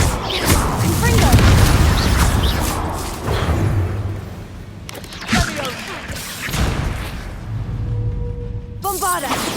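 Booming blasts from the Confringo fire spell in the game Hogwarts Legacy, several heavy explosive hits with whooshes and crashes through a cavern fight, loud and dense, mixed with shouted spell voices.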